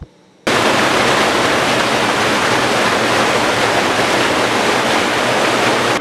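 River water rushes loudly and continuously at the Swaya water treatment intake near Mbeya, a dense, close roar that starts abruptly after a brief quiet moment and holds steady.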